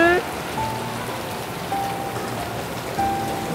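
Rain falls in a steady, moderate wash under faint tonal music notes, with no clear talk over it.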